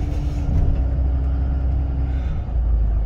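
Car traffic on a one-way road near Heart Bar campground in San Bernardino National Forest, a loud, low rumbling engine drone with a steady hum that swells and fades, close by.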